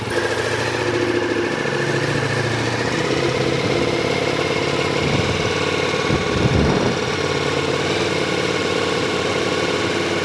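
A motorcycle engine runs loud and close, held at steady low revs with a constant droning hum and a brief swell near the end, and no talking.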